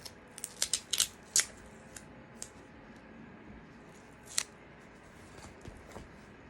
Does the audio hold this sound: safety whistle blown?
no